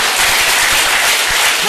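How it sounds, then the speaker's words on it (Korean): Loud, dense clapping from a religious congregation at Cheon Jeong Gung in Gapyeong, Korea, a continuous wall of sound close to the listener with no talk. "우리 다 함께 하나님께 큰 감사의 박수를 올립시다."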